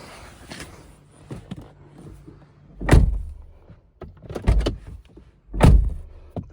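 A Toyota RAV4 door fitted with sound-deadening panels shuts three times, each a solid, deep thunk spaced a few seconds apart with softer handling clicks in between, close and fairly loud.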